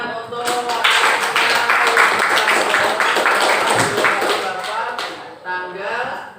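Students in a classroom clap together in a dense, steady burst that runs nearly the whole time, with talk from the teacher and a few voices rising over the clapping near the end.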